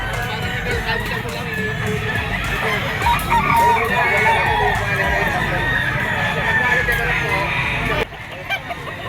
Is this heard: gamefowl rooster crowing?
yes